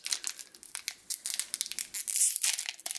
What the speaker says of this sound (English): Just watch me struggle to open packs